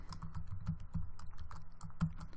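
Rapid keystrokes on a computer keyboard, close and fairly quiet, tapping in an uneven quick rhythm with no voice.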